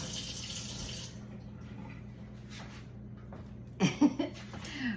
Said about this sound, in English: I'm going to rinse these off